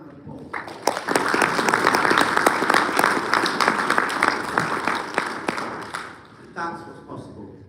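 Applause from an audience at a property investment seminar, steady dense clapping with a few louder claps, tapering off near the end as a voice starts up.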